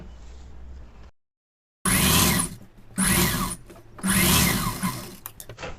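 An electric sewing machine stitching the neck lining of a pa neck blouse, starting after a short silence and running in three quick bursts of rapid mechanical whirring with brief pauses between them.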